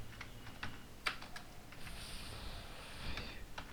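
Soft keystrokes on a computer keyboard as someone types a word into a text area, scattered clicks at an uneven pace, faint and close against a low background hum.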